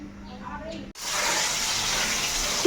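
Cold and hot water are poured and mixed together. After a quieter second with a faint low hum, a loud, steady gushing pour begins abruptly and continues close by to the end.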